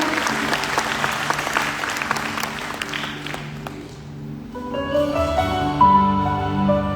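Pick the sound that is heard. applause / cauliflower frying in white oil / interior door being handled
applause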